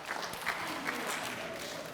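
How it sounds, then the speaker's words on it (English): An audience claps through a round of applause at a summer program presentation, steady and moderately loud with a faint cheer or voice under the clapping. "Round of applause"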